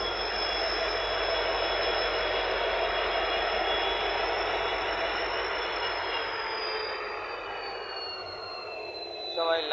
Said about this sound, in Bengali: এই চলে এসছে সব মালগাড়ি